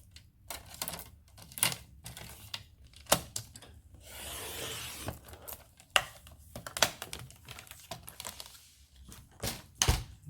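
Material for a handmade advent calendar is cut, with scattered sharp clicks and a soft rasping stretch midway, close and fairly quiet, no voices.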